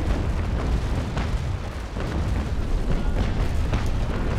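Ship cannons booming steadily during a Naval Action sailing battle between a frigate and two fifth-rate warships. The broadside rumble is continuous and dense, with no talking.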